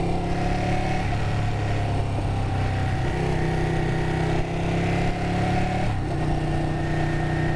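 A Ducati 959 Panigale is ridden hard, its engine droning loud and close with wind rush, the pitch dipping briefly around each quick-shifter gear change.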